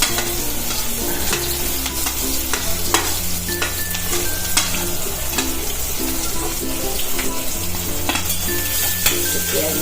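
Onion frying in hot oil with asafoetida, a loud continuous sizzle with regular stirring clinks and scrapes, plus a low steady hum in the background, no talking.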